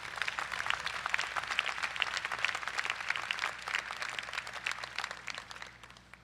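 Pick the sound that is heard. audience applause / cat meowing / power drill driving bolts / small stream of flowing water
audience applause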